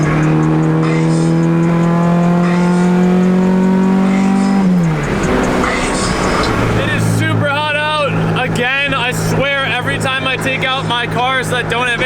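A Honda EK hatchback with a JDM H22A engine and full bolt-ons, driving with no air conditioning, gives a loud, steady engine drone that shifts pitch midway, under continuous talking throughout.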